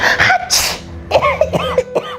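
A single sneeze bursts out near the start, followed by short vocal sounds and throat noises, all close and loud.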